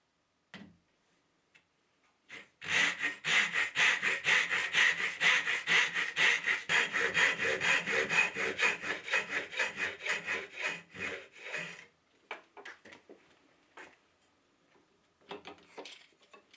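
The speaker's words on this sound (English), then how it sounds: "Insert two 5 mm spacers or a 10 mm spacer and cut the workpiece." A hand saw cuts a wooden workpiece for a half-lap joint with rapid, rhythmic back-and-forth strokes lasting about nine seconds. A few light knocks and scrapes follow once the cut ends.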